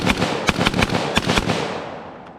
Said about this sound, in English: 3-round burst.